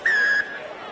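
A referee's whistle opens the second half of a Super Rugby Pacific pre-season match between the Queensland Reds and New South Wales Waratahs: one loud, steady blast lasting about a third of a second, followed by low crowd murmur.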